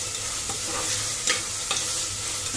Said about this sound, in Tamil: அந்த தக்காளி நல்லா வதங்கிடுச்சு